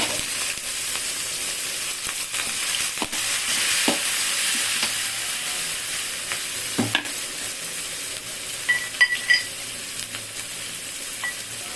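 Onion, green chili and curry leaves sizzling steadily in a hot pan, a loud continuous frying hiss with occasional stirring scrapes and clicks, no voices.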